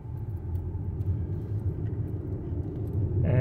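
A 2021 Toyota RAV4 Prime plug-in hybrid pulls away gently, a quiet low rumble of tyres and drivetrain from inside the cabin that swells slightly toward the end.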